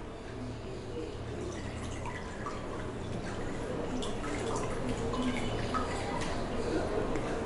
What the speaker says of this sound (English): Now when we wash it under running water,